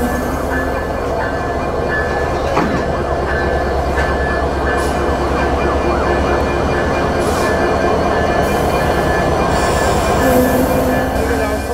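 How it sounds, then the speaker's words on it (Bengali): The Simanta Express, a night broad-gauge passenger train from Khulna toward Chilahati hauled by an American-built Class 66 locomotive, rumbles steadily from inside a coach, with rolling wheel noise and occasional metallic squeals. "আমাদের আজকের ট্রেনের নেতৃত্বে থাকছে ক্লাস 66 সিরিজের একটি ব্রড গেজ লোকোমোটিভ"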